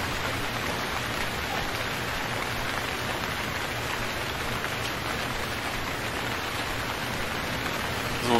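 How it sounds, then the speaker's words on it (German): Heavy, steady rain in the video game Stranded Deep hisses continuously at high volume, a dense wash of drops with no breaks. "Ich finde auch den Regen gerade enorm laut."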